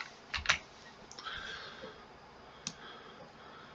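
Someone clicks and types a number on a computer keyboard: a couple of quick, close key taps early on, then isolated single clicks, all quiet against a faint room hush.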